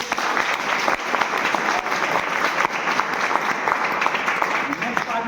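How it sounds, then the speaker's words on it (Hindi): An audience at a business opportunity program in Siwan applauds steadily and loudly for several seconds, a dense, unbroken wash of many hands with no pauses. "यहाँ तक का मेरा पार्ट आप सभी को कैसा लगा ये आपकी तालियां बताएंगे।"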